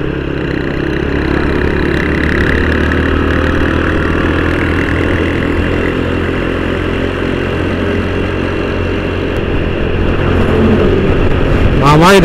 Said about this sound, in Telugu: మామా ఇది ఎందుకు ముందుకు వెనక్కి కొడుతుంది బైక్?